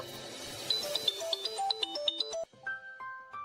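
A phone ringtone plays a bright, melodic sequence of electronic notes for an incoming call, clear and alone with no talk.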